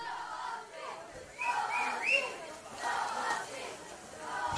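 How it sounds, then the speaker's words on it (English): A crowd cheers and whistles at the finals of the Micronesian Swimming Championships with 100 meters left in the race. The roar swells partway through, with whistles rising above the steady din, and talk mixes into the noise. "The crowd's getting into it now with 100 meters left."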